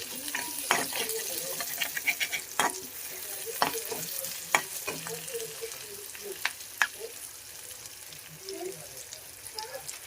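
Chopped onion frying in a pan on a home kitchen stove, stirred with a utensil: a steady soft sizzle with scattered scraping clinks and taps throughout.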